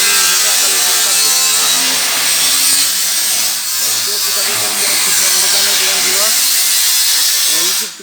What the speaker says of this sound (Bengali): সবসময় গ্রাইন্ডিং মেশিনটা টালি টিন কাটবেন।